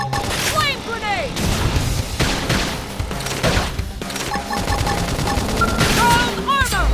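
Gunfire from a futuristic sci-fi battle in the video game Xenoblade Chronicles X, with rapid shots and booms mixed into dense combat sound effects, music and shouted character voice lines.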